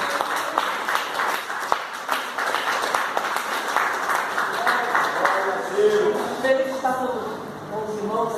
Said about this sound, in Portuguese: Vamos recebê-la com a linda salva de palmas